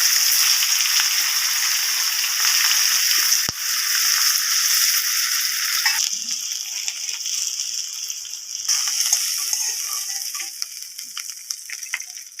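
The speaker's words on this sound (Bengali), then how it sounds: "বাকি মাছগুলো ভেজে নেবো" The remaining fish pieces fry in hot oil, producing a steady close sizzle that eases slightly partway through, with an occasional soft clink of a utensil.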